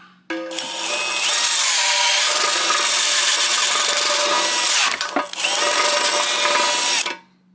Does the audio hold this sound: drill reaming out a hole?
yes